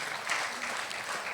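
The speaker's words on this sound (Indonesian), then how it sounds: "Tepuk tangan untuk Tuhan." Church congregation applauding during a sermon, a steady wash of clapping through the whole short moment, fairly faint and distant.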